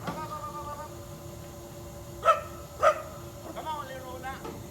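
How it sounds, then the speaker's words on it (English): Several dogs bark in a park in Jacksonville, Florida, with two loud barks standing out near the middle and fainter yips and whimpers around them, over a steady background hum. "I've got 4 dogs and can barely control them"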